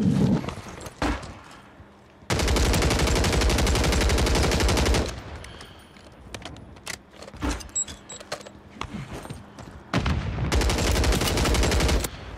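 Sniper rifle fire from the video game Warzone 3, with a WSP-9 loadout, comes as a few sharp loud shots and dense bursts of gunfire separated by quieter stretches of game ambience and clicks.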